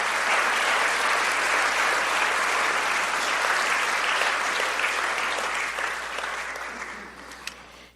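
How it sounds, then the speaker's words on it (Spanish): A church congregation applauds during a worship service, steady and sustained clapping from a large crowd that fills the space evenly before tapering off in the final seconds. "Denle un aplauso al Señor."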